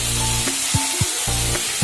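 Bitter gourd and potato chorchori frying in a pan, a close, loud, continuous sizzle broken by a few quick scraping stirs of a spatula.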